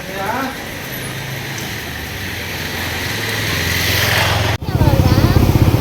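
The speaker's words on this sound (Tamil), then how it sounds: "நாங்கள் வண்டியில் போயிட்டு இருக்கோம்" Steady engine drone of a motorcycle carrying riders along a road, loud and continuous, with wind rush building and a brief dropout before the engine note returns with a pulsing rhythm.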